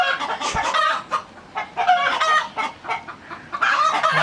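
Chickens cluck repeatedly in short, choppy bursts in a coop after an eagle attack, close and fairly loud, with no talking.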